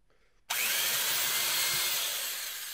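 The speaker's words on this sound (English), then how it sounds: "Let's drill a hole and see what happens." After a brief quiet moment, a vintage electric drill suddenly whirs to life and grinds steadily through material, loud and close, slowly easing off toward the end.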